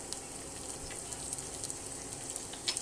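Peanuts, raisins and cashews frying in a pan for sago pulao, a faint, steady crackling sizzle with occasional small pops and light stirring, quiet and close with no speech.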